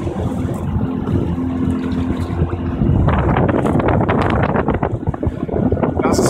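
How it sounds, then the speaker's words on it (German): Steady, strong wind buffets the microphone with a broad roar, mixed with a low boat engine drone and water noise on a boat trip at Rheinsberg, Germany; a voice speaks over it. "Der Wind gerade ist ziemlich kräftig."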